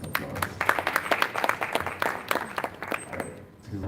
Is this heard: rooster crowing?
no